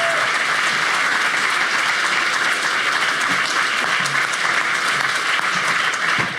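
Sustained applause from a conference audience after a talk, a dense wash of many hands clapping at steady loudness from start to finish.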